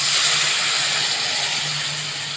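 Hot gatta boiling water hits spiced masala in a pan, giving a loud, steady broadband sizzle and steamy hiss that fades gently over a couple of seconds, with no talking.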